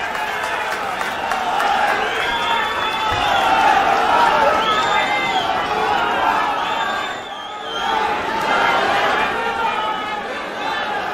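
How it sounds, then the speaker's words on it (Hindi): Supporters at a Jantar Mantar rally applaud and cheer to welcome Arvind Kejriwal. A dense, steady wash of clapping and crowd noise fills the whole stretch, with voices mixed in and a brief dip near the middle. "जोरदार तालियों से स्वागत करिए।"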